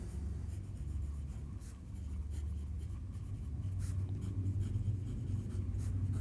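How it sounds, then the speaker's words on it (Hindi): Pen scratching across paper while a math solution is written out, a continuous close scribble of strokes and short pauses with no talk. "तो अभी हम लिखेंगे"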